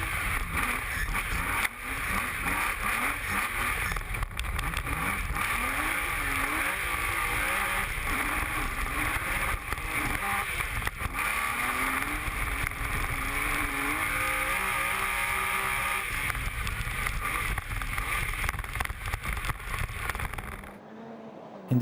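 A rear-wheel drive rally car roars from an onboard position during the Sezoens Rally, engine droning loud and continuous with revs rising and falling through gear changes, gravel and road rumble mixed in, no voices.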